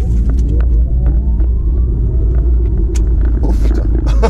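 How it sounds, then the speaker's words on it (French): An Audi RS e-tron GT electric car pulls away hard under launch control, a loud, steady low rumble with a rising electric whine that runs through the whole stretch, close and continuous with no talking. "Je vous confirme que ça accélère très très très fort."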